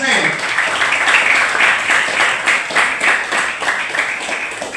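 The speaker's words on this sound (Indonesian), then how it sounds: "Beri tepukan yang dulu untuk Pak Ismail." An audience at a school socialization event at SMK Negeri 1 Batam claps steadily for a guest, a sustained round of applause heard throughout with a voice speaking over it.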